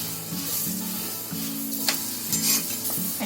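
A chapati sizzles loudly in a spoon of oil and a spoon of butter on a hot tawa, a steady close frying hiss with scraping stir noises and brief louder spurts.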